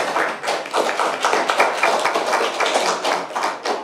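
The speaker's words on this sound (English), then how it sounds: "I think they do deserve a round of applause" An audience at an ALBA Women's event in Aberdeen bursts into steady, dense applause, many hands clapping close and continuously without a break.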